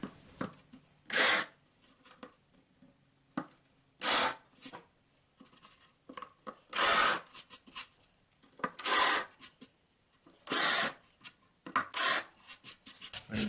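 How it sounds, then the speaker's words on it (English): A drill with a countersink bit cutting into a wooden board, coming in short raspy bursts of one to two seconds separated by quiet pauses, close and fairly loud with no talk. "Use my countersink."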